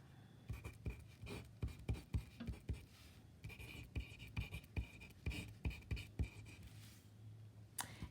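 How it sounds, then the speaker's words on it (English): Pen writing an equation by hand for a combined gas law problem, a run of quick, faint scratching strokes in an irregular rhythm, close and quiet, with no talking. "Write down my equation."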